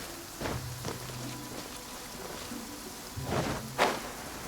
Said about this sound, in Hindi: बारिश हो रही ना